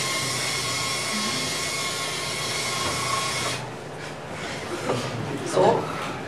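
A small model test car runs along a self-built rail track fitted with sensors, a steady whirring rumble that cuts off midway, followed by faint clicks and light rattles in a room.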